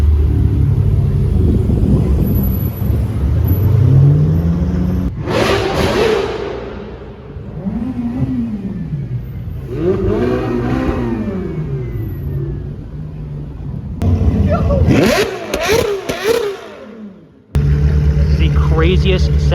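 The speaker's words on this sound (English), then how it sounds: "Looks like we have another supercar convoy coming in here." A convoy of supercars, Ferraris and a Lamborghini Urus, passes by on a city street during a Formula 1 weekend in Montreal, with several loud engine roars and rising-falling passby sweeps, one after another, close to the listener.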